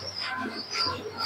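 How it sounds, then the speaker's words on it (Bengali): A female high-flying pigeon coos in soft, low throaty murmurs amid faint bird chirps, fairly close and quiet over a short stretch. "এটা মাদি পায়রা।"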